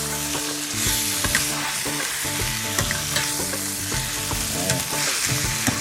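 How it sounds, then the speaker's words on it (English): Chicken sizzles loudly over high heat in a pan for Pakistani chicken karahi gosht, while a metal spatula repeatedly scrapes the pan bottom. A steady tonal hum runs underneath and no one speaks. "put this on a high heat now because I want to sear off the chicken"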